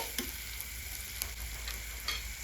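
Chopped onions and green chilies fry in a pan, giving a dense continuous sizzle with occasional light scrapes of stirring, close up and with no talking.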